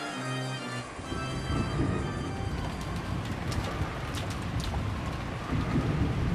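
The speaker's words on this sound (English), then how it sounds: "The rain turned into large, cold drops." Steady heavy rain pours down with a broad hiss, and a rumble of thunder rolls underneath it. The storm continues unbroken, close and even, and no one speaks.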